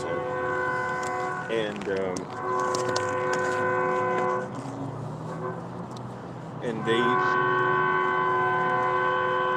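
Passing train sounding its horn in long sustained tonal blasts, loud and near, with rail rumble underneath and someone speaking briefly.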